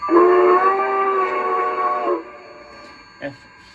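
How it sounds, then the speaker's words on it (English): A single long, steady steam whistle blast from an LGB Mogul model steam locomotive's Zimo sound decoder, close and loud, lasting about two seconds before cutting off, followed by a faint click. "F3 is a standard long whistle."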